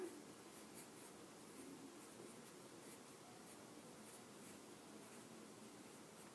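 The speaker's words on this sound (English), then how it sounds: "And then I'm going to write my name." A pen writes a name on paper, a soft, close scratching that runs in short strokes with brief pauses, quiet and alone.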